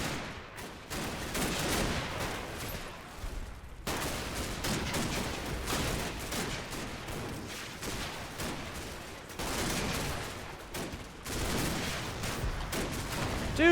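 Dense WWII battle gunfire in a video game, rapid overlapping rifle and machine-gun bursts crackling continuously at loud, fairly close range, broken by brief lulls, with no talk.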